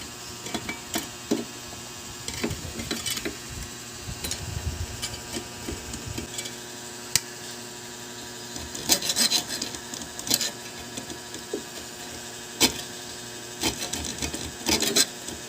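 Small hand saw cutting through a rounded part on a buttonhole sewing machine under repair, giving uneven scraping strokes, close and fairly quiet, with brief pauses and clinks between passes.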